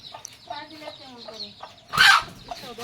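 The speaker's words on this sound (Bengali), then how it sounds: "ওই দেখো মুরগিগুলো কই যাইতেছে।" Chickens, black and white hens among them, cluck in short repeated calls outdoors, with a louder burst of commotion partway through and faint talk in the background.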